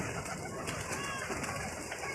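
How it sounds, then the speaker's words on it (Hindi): Pigeons kept on a netted rooftop coo softly amid a steady wash of outdoor background noise, with faint low murmurs running throughout. "देखें, जाल के अंदर से आप देखें कबूतर ही कबूतर छत के ऊपर किया हुआ है"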